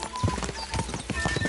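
Horse hooves clip-clopping in the video game Kingdom Come Deliverance 2, a quick, close drumming of several hoofbeats over a brief stretch with no talk.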